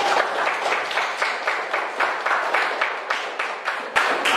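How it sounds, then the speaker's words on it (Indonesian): A classroom of students claps steadily for their teacher after a lesson on the Jayeng Rana dance, dense overlapping hand claps sustained throughout at moderate loudness. "Tepuk tangan buat Ibu Rini."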